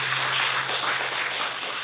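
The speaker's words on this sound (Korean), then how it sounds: "박수." A church congregation applauding during a revival meeting, a short, dense burst of clapping at close range with no talking over it.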